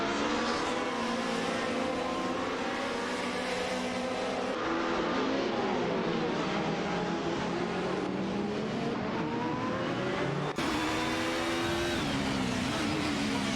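Race cars in an AI racing video game, a Mercedes 190 Evo and an Opel Calibra DTM among them, engines droning and revving continuously as the pack circuits the track, loud and dense with shifting pitch and no voices.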